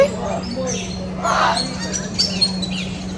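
Birds chirp and call at Hope Zoo in Kingston, Jamaica, with bright, close tweets layered over a steady hum while people talk nearby.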